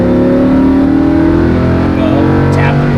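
A sports car accelerating hard on a race track, its engine droning loud and near with a rising tone, while a voice talks over it.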